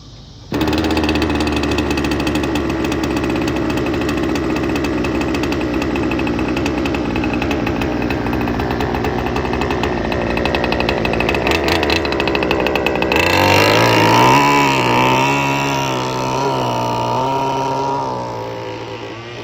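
A large, expensive RC model boat's engine and water pumps run at a steady drone that shifts pitch around thirteen seconds into a lower, throbbing revving tone, loud and close with no talk.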